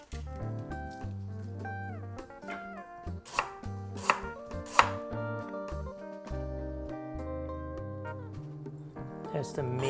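A knife minces lemongrass on a cutting board, with a run of quick, sharp chopping taps that cluster in the middle, heard over steady background music.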